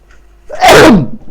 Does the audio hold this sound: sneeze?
yes